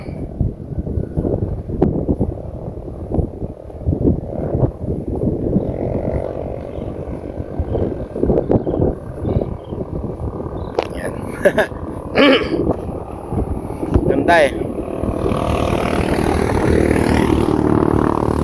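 Strong wind buffets the microphone with a constant low rumble and gusty roar, while a person speaks briefly over it.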